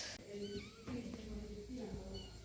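A cat meows briefly while people talk nearby, with steady background noise throughout.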